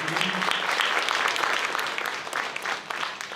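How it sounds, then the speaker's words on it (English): At a school band and choir concert, the audience applauds a trumpet player. The clapping is steady and crowded and fades slightly toward the end. "all of us give them a round of applause"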